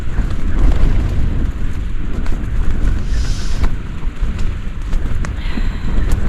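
Strong gusts batter an MSR Hubba Hubba NX tent at a near-wild campsite, a loud, continuous roar of wind with flapping fabric and irregular thumps and rattles close to the microphone.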